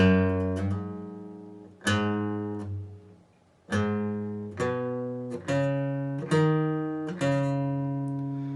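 An electric guitar plays part 3 of the second verse slowly, with seven separate plucked notes and chords, each ringing out clearly and fading before the next, alone without talk.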